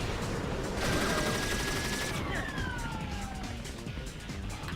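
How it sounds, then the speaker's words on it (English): A machine gun barrage from the Viewtiful Joe video game rattles on continuously at moderate level, with siren-like rising and falling electronic tones sweeping over the dense, busy game audio. "Stop the machine gun barrage."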